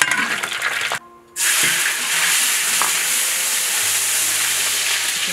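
Meatballs deep-frying in oil over low heat give a steady, loud broadband sizzle, broken by a brief drop in the hiss near the start before the frying noise returns at full strength.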